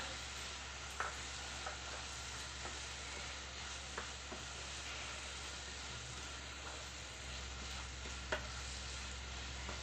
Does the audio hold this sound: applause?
no